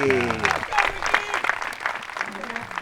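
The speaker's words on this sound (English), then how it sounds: "It's about the most excited yelling you'll hear from the crowd all week" Spectators at a disc golf tournament on a course at Sibbe cheer for two-time world champion Ricky Wysocki on the tee, with excited yelling and whoops over scattered applause while a commentator talks.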